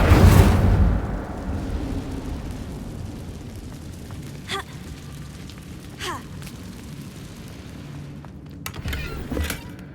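A fiery burst from the Incendio spell in Hogwarts Legacy, a loud whooshing blast at the start that fades into a low crackling rumble, followed by scattered small clicks and thuds.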